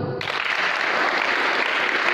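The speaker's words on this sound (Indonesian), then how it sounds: "Tepuk tangan buat Tuhan." A church congregation at a sermon breaks into applause, a sudden dense burst of many hands clapping that starts abruptly and holds steady and loud to the end.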